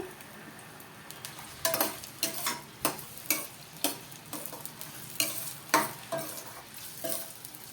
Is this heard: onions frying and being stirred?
yes